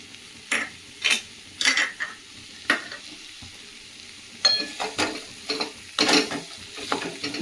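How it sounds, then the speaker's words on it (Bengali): Chopped dried red chillies fry in a pan, with repeated short bursts of sizzling and scraping as they are stirred, separated by quieter gaps. "আমি ভেজে নিচ্ছি"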